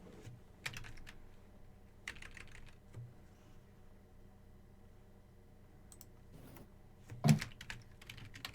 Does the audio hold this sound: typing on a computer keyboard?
yes